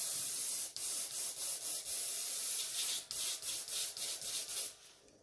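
Airbrush spraying black paint inside a clear Lexan RC car body, a steady close hiss broken into about ten short bursts with brief pauses, fading out at the end.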